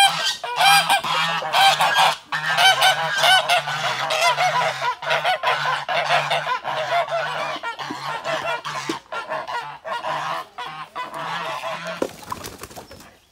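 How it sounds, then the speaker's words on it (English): A flock of farm geese honk noisily and steadily nearby, overlapping calls repeating throughout, loud and without speech. "The geese are being noisy."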